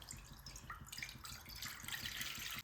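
Water runs steadily into a cooking pot on a gas stove for a couple of seconds, a continuous splashing pour close by with no talking.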